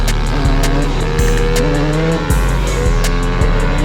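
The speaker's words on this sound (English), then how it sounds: "Tire is scraping." A dirt bike engine roars loudly and continuously while its tire scrapes and squeals, with the pitch stepping up and down and sharp bursts recurring about every half second.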